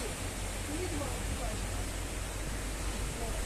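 Water falls steadily beside a mountain road in Assam, a broad, even rushing wash that holds constant throughout with no clear talk over it.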